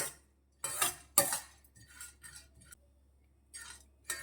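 Seeds for chikki stirred in a pan over low to medium flame, with a few close scraping and rattling bursts of the spoon separated by short quiet gaps, faint overall.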